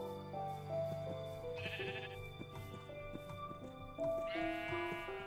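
Sheep bleating in the Minecraft Tekkit modpack, several repeated synthetic bleats at varying pitch, fairly close and clear over a quiet game background.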